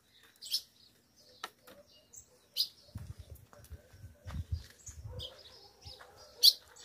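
Ultramarine grosbeak in an aviary giving short, bright calls, several brief notes spaced apart, fairly near, with low handling or rustling noises in between.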